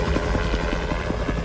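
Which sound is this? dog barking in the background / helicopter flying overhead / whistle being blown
helicopter flying overhead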